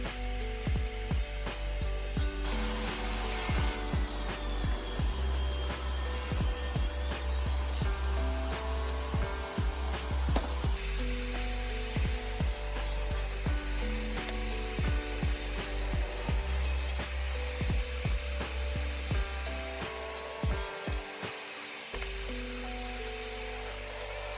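A saw slices thin shims from a piece of 2x10 wood in dense, rapid rasping strokes with sharp clicks, steady and close throughout, with a brief pause partway through as the piece is flipped.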